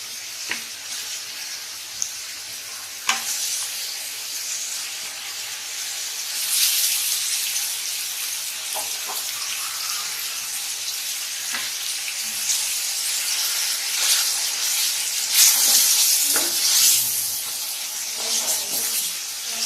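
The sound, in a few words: chicken added to onions frying in a pan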